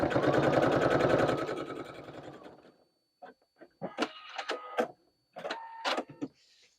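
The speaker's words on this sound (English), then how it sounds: "we're just, again, top stitching this down into place" A sewing machine topstitches fabric and vinyl in one close, steady burst that slows and stops, followed by a few short clicks and handling noises.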